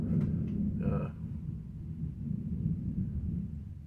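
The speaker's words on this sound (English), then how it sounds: "You can probably hear some thunder going on there." Distant thunder rolls as a continuous low rumble throughout, steady and muffled with a brief brighter crackle near the start, no talking over it.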